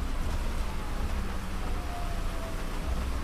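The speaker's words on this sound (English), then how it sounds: "now the rain started" Rain falling steadily in the video game FiveM, a continuous dense hiss of rain with a low rumbling undertone, no speech.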